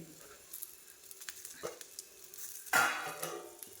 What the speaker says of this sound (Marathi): या स्टेजला मिरच्या चांगल्या भाजल्या गेल्या आहेत त्यामध्ये आपल्याला आता ही कोथिंबीर घालायची आहे चिरलेली